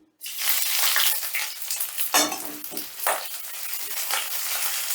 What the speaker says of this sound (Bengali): এবারে রসুন পেঁয়াজ আর কাঁচা লঙ্কাটা হালকা করে ভেজে নিচ্ছি